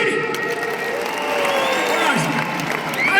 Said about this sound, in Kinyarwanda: Aba babyini mu bakomera amashyi.